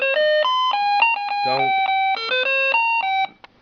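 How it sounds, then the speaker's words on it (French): A bedside alarm clock with temperature display and five selectable melodies plays its first alarm tune, a loud, steady electronic chime melody of alternating pitched notes that stops abruptly, with a brief word spoken at the start. "moi, je vais tester la première mélodie, un bouton poussoir ici,"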